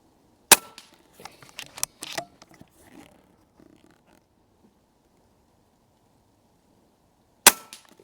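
Pinty .22 bullpup air rifle fired at targets: two sharp, loud, close cracks about seven seconds apart, with clicking and handling noises of the rifle between them and no talking.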